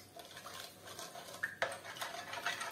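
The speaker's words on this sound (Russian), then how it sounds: "Все хорошенько размешаем." A yeast and baking powder mixture is stirred in a bowl with light, quiet clinks and scrapes of a utensil against the sides, including a few sharper taps.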